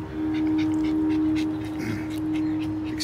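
A dog whimpers softly a few times, faint high whines over a steady low hum in a quiet indoor setting.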